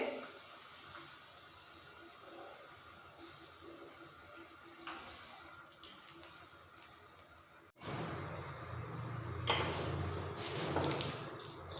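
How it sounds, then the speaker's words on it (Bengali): Nigella seeds drop into hot oil for tempering a Bengali fish curry, giving a soft steady hiss that suddenly swells into a louder, crackling sizzle partway through, with no one speaking. "এইবার এই তেলের মধ্যে ফোড়ন দিয়ে দেবো সামান্য একটু কালো জিরে"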